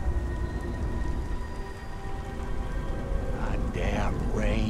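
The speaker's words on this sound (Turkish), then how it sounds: "Lanet yağmur" Steady rain hisses across the scene in the video game Beyond Two Souls, a constant wash of droplets with a low rumble beneath, while voices speak faintly near the end.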